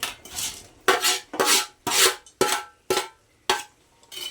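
Deep-fried bitter gourd pieces tumble into a pan of cooked masala paste for a home-style curry, giving a run of sharp, close scraping and clattering bursts at a steady rhythm with no talk.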